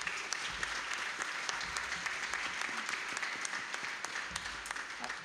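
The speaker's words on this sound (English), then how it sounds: "A massive round of applause for them" Steady applause from an audience for an orchestra and choir at a Europe Day event in London, a dense continuous patter of many hands clapping throughout, fairly close and even in loudness.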